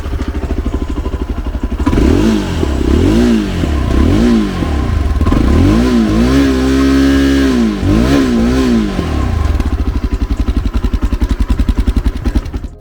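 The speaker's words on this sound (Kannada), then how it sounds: "ಇದರ ಎಕ್ಸಾಸ್ಟ್ ನೋಟ್ ಯಾವ ರೀತಿ ಇದೆ ಕೇಳಿಸ್ಕೊಳ್ಳೋಣ" A 2025 Yezdi Adventure motorcycle engine starts and idles, then revs up several times in rising and falling bursts, loud and close, before settling back to a steady idle.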